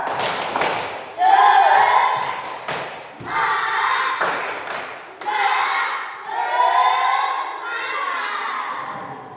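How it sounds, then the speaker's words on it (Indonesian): In a school classroom, children chant together and clap in short rhythmic bursts, with crisp hand strikes between stretches of loud unison voices. "marilah kita sekali lagi tepuk semangat"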